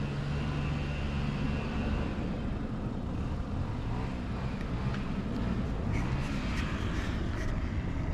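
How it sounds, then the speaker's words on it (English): A steady, broad roar of a large jet airliner passing low overhead fills the scene, constant and loud with no talking. "Seems like that plane's kind of low for a big jetliner."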